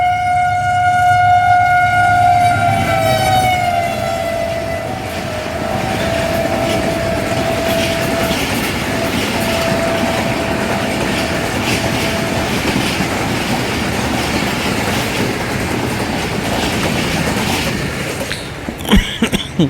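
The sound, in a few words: Shah Hussain Express train departing from station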